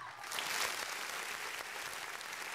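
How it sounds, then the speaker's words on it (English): A burst of applause from an audience, fairly distant and soft, a steady wash of clapping lasting a couple of seconds. "please, a round of applause for them."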